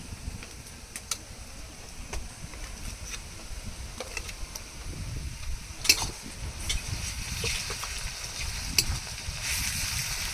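Ginger and garlic paste sizzling in oil among fried onions, a soft, steady crackle with a few sharp ticks and occasional stirring scrapes of a spoon against the pan.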